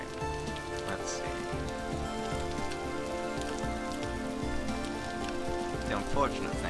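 Rain falls steadily in the Minecraft world, a continuous close hiss of drops with faint tonal game sounds underneath and a slight swell near the end; nobody speaks.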